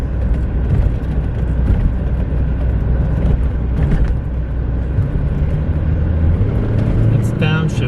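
A 1989 Chrysler TC by Maserati with a turbocharged engine cruising on the road, a loud, steady engine and road drone from inside the car as it downshifts, with someone talking over it.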